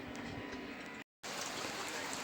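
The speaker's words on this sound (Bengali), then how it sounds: "বাইরে এসে দেখি বৃষ্টি তো আরও বেড়ে গেছে ঝমঝমিয়ে আরও জোরে বৃষ্টি পড়ছে" Heavy rain falls outside as a dense, even hiss of drops on surfaces, moderately distant. It is interrupted by a brief dead gap of silence.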